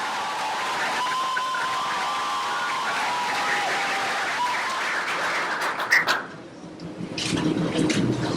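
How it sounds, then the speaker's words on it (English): An audience at the HWPL World Peace Tour 2019 in Romania gives a big round of applause to welcome Director Young Ming Chung. The sustained, dense clapping fills the room, then fades out after about six seconds. "Let's all welcome Director Young Ming Chung with a big round of applause."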